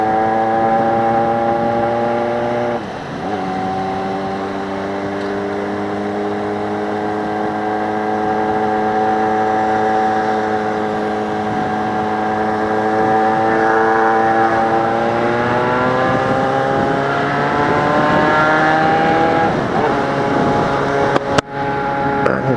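A motorcycle engine fitted with a dB killer silencer runs steadily close by for a long stretch, its pitch rising and falling with throttle changes and a brief dip near the start.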